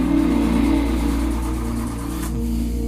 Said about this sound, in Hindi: भाई गाड़ी स्टार्ट होगी कि नहीं?